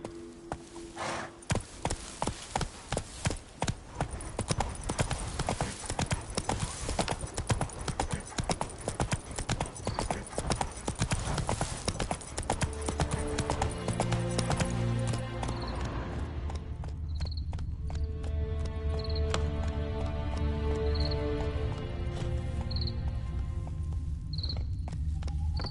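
Steady clip-clop of a horse's hooves galloping in The Witcher 3 video game, loud and continuous with rapid rhythmic beats, a brief whinny, and game music tones emerging partway through.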